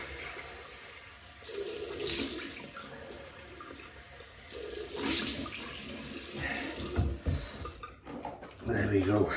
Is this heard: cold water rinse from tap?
yes